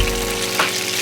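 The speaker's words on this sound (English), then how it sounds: "Continue to cook the dumplings until the bottom gets brown" Dumplings frying in an uncovered pan, a loud, close, continuous sizzle with one slight swell partway through.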